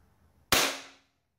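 A single sharp shot from a CO2-powered Hi-Capa airsoft pistol with a single regulated gas setup, a crisp close pop followed by a brief hissing gas decay, with near silence before it.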